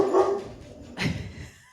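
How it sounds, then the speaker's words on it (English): An elderly Labrador retriever barks indoors, a few deep woofs, one sharp bark standing out, heard slightly off-mic in a quiet room. "if you do happen to hear any dog barking"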